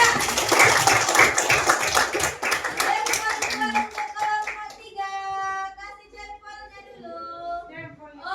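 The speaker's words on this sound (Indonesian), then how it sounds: "kasih aplaus untuk kelompok 3" Applause from a Grade VII madrasah classroom for a student group, with dense clapping from many hands for about four seconds that then thins out as tonal, chime-like sounds take over.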